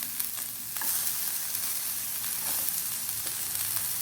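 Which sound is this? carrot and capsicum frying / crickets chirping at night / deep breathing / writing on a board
carrot and capsicum frying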